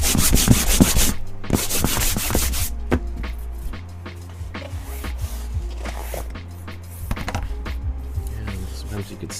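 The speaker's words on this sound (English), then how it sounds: "And then I just give it a good little sanding." Sandpaper wrapped on a wood block rubs across a gesso-coated board in rapid back-and-forth scratchy strokes, close and loud, coming in bursts with brief pauses between them.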